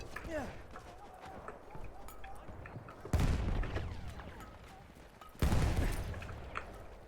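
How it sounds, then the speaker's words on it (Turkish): Thrown grenades go off as two heavy, booming blasts several seconds apart in the World War I shooter Battlefield 1, amid scattered gunfire and battlefield noise, while someone talks throughout. "Şöyle bomba atalım"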